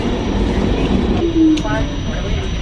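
A train in motion gives a steady low rumble and rolling clatter throughout, with a brief higher tone partway through.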